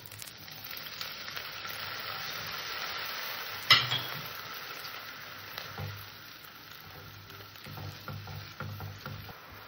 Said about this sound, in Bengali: আমি এখানে অল্প করে জল দিয়ে দিলাম।